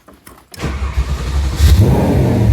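An Audi B7 RS4 in safe mode cranks briefly, catches and roars to life loudly, then falters into a rough, uneven rumble.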